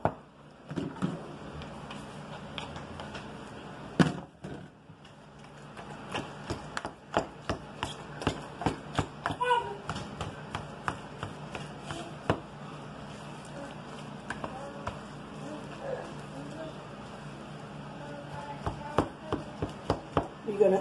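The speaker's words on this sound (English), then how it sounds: "We're going to mash everything into the potatoes like that." Red skin potatoes being mashed by hand, a steady run of soft thumping, squishing strokes repeated rhythmically and close for a long stretch, with occasional sharper knocks.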